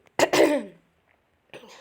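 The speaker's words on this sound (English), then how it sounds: "Pardon my cough" A single sharp cough, close up, followed by a short pause and a faint breathy sound.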